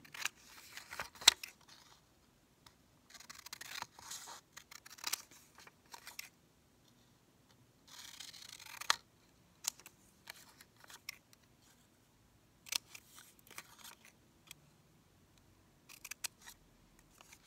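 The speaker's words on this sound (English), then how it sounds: "I guess it's good to go ahead and cut it." Scissors cut through paper in intermittent bursts of crisp snipping, each run of cuts lasting a second or so and separated by quiet pauses, close and alone.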